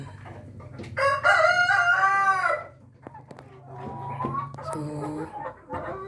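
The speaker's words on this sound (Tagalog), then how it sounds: "yan yung rooster natin, Rhode Island" A Rhode Island rooster crows loudly and close by in one long call, followed by softer clucking and bird calls from the farm flock, with a short spoken word near the start.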